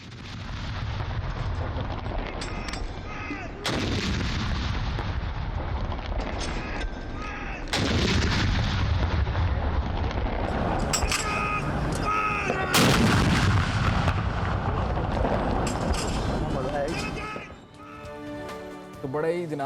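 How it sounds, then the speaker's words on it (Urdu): Ceremonial 21-gun artillery salute fired on 14 August, Pakistan's Independence Day, with booming cannon reports recurring every few seconds over a dense, sustained crowd and ambient roar, loud and continuous throughout. "بالخصوص یہ صبح سویرے 21 توپوں کی سلامی دی جا رہی ہوتی ہے"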